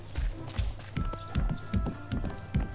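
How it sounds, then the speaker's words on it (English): Heavy thudding footsteps of the large character Maui in the Disney Dreamlight Valley video game land in a steady rhythm, about six loud low thumps, with light game ambience between them. "Maui has loud footsteps."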